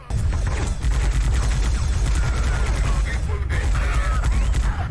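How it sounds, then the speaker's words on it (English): Sustained stock machine-gun fire from the video game Warhammer 40K Fire Warrior, a loud, dense rattling burst that runs almost without pause from start to finish. "one of the most powerful sounding weapons in the game uses a stock machine gun sound"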